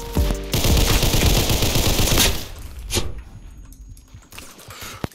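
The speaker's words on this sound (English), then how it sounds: "Why am I getting shot from like 5 different angles" Heavy automatic gunfire in the Roblox game Criminality rattles from several directions, a sustained close barrage that breaks off into scattered single shots and quieter pauses, with no speech.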